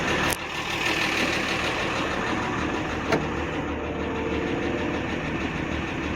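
A 1974 Grand Banks 32 motor yacht's diesel engine idles steadily in cold weather, a constant close rumble with a faint knocking texture and no talk.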